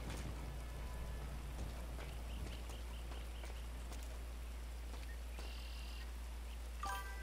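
Rain falls in the video game GTA V, a soft, steady patter on surfaces under a low constant hum, with a few faint clicks and a brief tone near the end.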